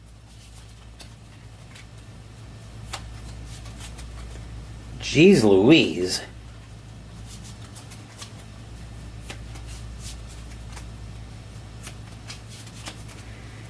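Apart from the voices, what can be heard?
shuffling cards from discard pile back into deck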